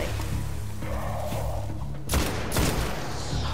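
Gunfire in the video game Destiny, with a low steady hum of game ambience and then two loud, close bursts of shots a moment apart, each heavy and booming with a thudding impact.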